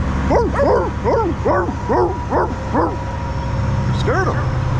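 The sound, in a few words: dog barking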